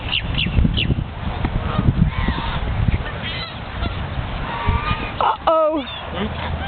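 Geese honk repeatedly among other fowl outdoors, loud nasal calls rising over scuffling and background noise, with people talking during the clip.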